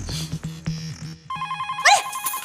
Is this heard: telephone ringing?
yes